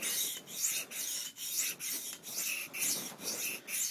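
Steel blade sharpened freehand on a stone, rasping back-and-forth strokes repeating steadily about twice a second, close and fairly quiet with no talk.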